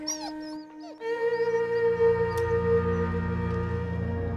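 A dog whimpers with high, wavering yelps, then a long, sustained tonal howl follows over a low, steady rumble, fairly loud and close.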